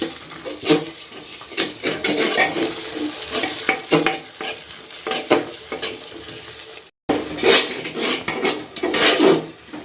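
Chopped chilies and onions frying in hot oil are stirred in a pan while cooking a mutton curry. There is a close, steady sizzle with repeated scraping strokes and a brief pause near the end.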